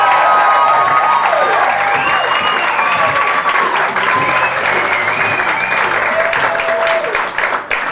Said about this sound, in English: Guys, would you welcome with twice that much applause to the stage